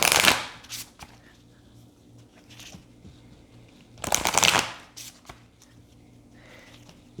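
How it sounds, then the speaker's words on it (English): A large tarot card deck shuffled by hand, with a loud riffling burst at the start and another around the middle, soft handling noises in between and a faint steady hum underneath. "So I'm going to just quickly shuffle and split the deck."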